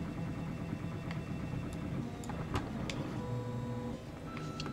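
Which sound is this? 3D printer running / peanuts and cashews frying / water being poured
3D printer running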